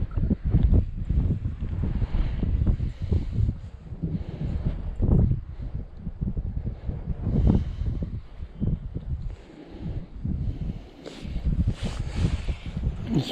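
Strong wind gusts across a fishing lake on a rough July day, a steady loud buffeting roar with bursts hitting the microphone throughout and no speech.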